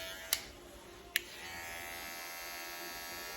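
Caliber 44 Mag hair clipper buzzing steadily and close, with two sharp clicks near the start as it switches, then a continuous even hum.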